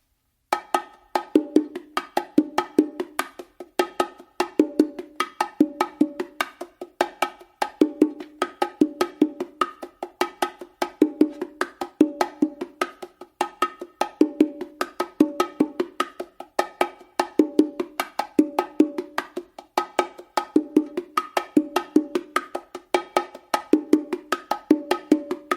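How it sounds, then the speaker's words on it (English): Bongos playing the complete martillo continuously, a dense, steady stream of bright, ringing hand strokes with accented open tones, close and loud with no voices. "Now to play the whole martillo through,"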